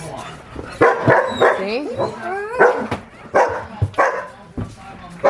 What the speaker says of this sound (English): She only barks when she thinks it's chore time.